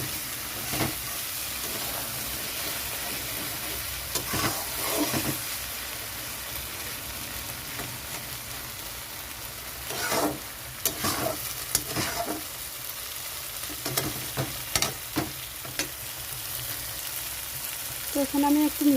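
Poppy seed paste, ground nearly dry, sizzles and is stirred in a pan for nal posto, a steady frying hiss with scraping strokes of the spoon, close and continuous, with a brief voice near the end.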